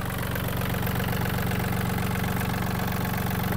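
A Yanmar F-210 Japanese mini tractor with a 21-horsepower, 1.2-litre engine idles steadily, a loud, even rhythmic chugging close by with no talk.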